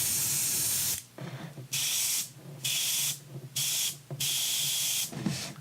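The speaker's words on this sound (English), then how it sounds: "I just have some hot pink loaded in it, and I'm just going to do some spraying" An airbrush loaded with hot pink paint sprays in five loud, steady hissing bursts separated by short pauses, close up with no talk.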